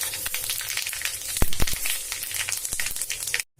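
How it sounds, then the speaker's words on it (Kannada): Mustard seeds and cumin sizzle in hot oil, a steady, close frying crackle with sharp pops scattered throughout, cutting off abruptly near the end. "ಅದ ಎಣ್ಣೆಗೆ ನಾ ಏನದ ಸಾಸಿವೆ ಮತ್ತೇನದ ಜೀರಿಗೆ ಹಾಕಿಕತ್ತೀನಿ"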